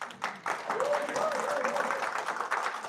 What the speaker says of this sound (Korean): 박수 한번 쳐주고 싶어요